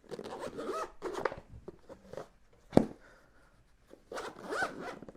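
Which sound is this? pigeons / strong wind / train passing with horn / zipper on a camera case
zipper on a camera case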